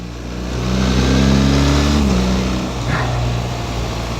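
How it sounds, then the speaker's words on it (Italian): A BMW GS 1300 motorcycle engine pulls hard through the gears on a road, its steady mid-pitched drone rising and holding loud and close, then easing off slightly near the end. "Il motore ha veramente tanto tiro"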